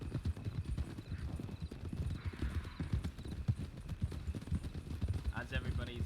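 A horse cantering in a video game gives steady, rhythmic clip-clop hoofbeats in quick triplet patterns throughout, with brief game noises and faint voices under it.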